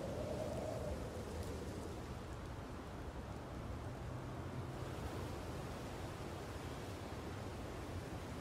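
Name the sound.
ocean waves in Garry's Mod (Gmod) VR video game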